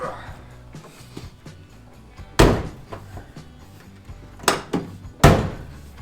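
Hard-top door on a 1970s Ford XB Falcon ute being banged to adjust it: three sharp, loud slamming thuds spaced a few seconds apart over quieter clunks and workshop handling noise.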